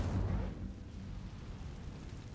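An Incendio fire spell is cast in a video game: a deep whooshing burst of flame erupts at the start, then settles into a low rumbling roar that slowly fades.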